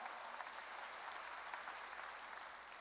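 Congregation applauding during a Korean church sermon on prayer, a dense, steady wash of many hands clapping that continues evenly, moderately far, with no talk over it.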